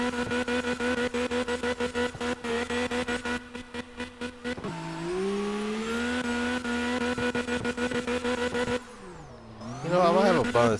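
A car engine in the CarX Drift Racing video game revs and shifts with buzzy rising pitches, settles into a steady drone, then screams into a squealing drift, loud and continuous with a voice speaking over it.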